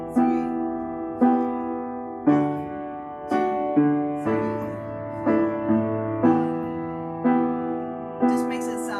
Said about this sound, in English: If you want to get a little bit interesting with the left hand, you could add a rhythm like a dotted quarter note plus an eighth note.